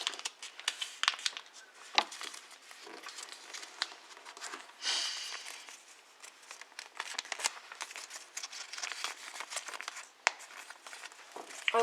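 Paper is handled and folded for an origami snail, with soft crinkling and rustling, creases pressed and occasional sharper crackles, close and fairly quiet.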